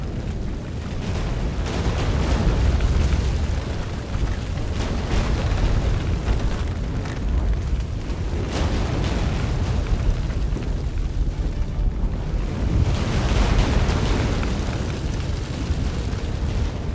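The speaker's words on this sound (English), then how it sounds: "An earthquake?" Deep rumbling earthquake in The Witcher 3 video game, a loud continuous roar of low booming and crashing that swells and surges across the whole stretch without pause.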